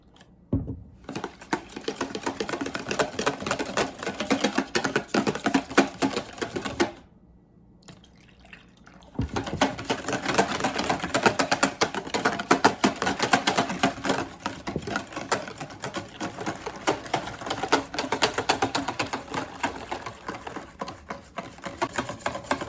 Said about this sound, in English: I'm just gonna start slowly adding this milk and sort of mixing it up as I go with a whisk